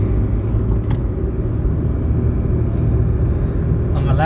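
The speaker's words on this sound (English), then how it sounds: "Let's pass the truck." Steady road rumble of a car overtaking a truck on an open road near a small local airport, the engine and tyre drone loud and continuous throughout with no talking.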